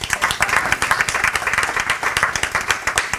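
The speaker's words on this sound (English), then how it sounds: "Clap your hands." A church congregation claps hands together in a dense, steady burst of applause during a sermon, loud and close with a lively crowd sound throughout.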